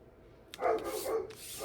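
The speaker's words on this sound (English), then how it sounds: "Sorry for the dog." A dog gives a short burst of two or three barks indoors, fairly close and moderately loud, with nothing else in the foreground.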